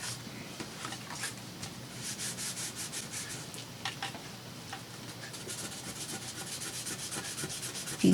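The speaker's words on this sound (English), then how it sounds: "If you get it quick enough, you can rub on this glue and it will kind of pill up and come right off." Dried glue being rubbed off paper with a fingertip, a steady soft scratchy rubbing that runs continuously and close up, with no talking.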